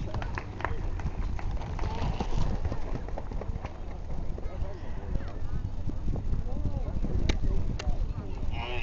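Rapid, irregular clip-clop of horse hooves running on ground, fairly close, with crowd noise and a voice talking over the public address.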